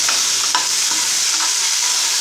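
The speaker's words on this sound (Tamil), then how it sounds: "லைட்டாக ஃப்ரை பண்ணி பேஸ்ட் பண்ணோம்னா நல்லாயிருக்கும்" Onion and tomato sizzle steadily in a hot pan while being cooked down for a tamarind kuzhambu paste, a close continuous frying hiss with a few soft stirring scrapes.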